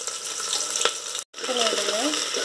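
Onion, green chilli and curry leaves fry in oil for a tempering, making a close, steady sizzle with a sharp stir in the middle, a brief cut, and a voice speaking over the frying afterward.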